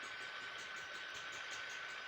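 A tractor engine in the video game Farming Simulator 18 drones as a steady, faint hum with a hissy, noise-like texture throughout, with no speech.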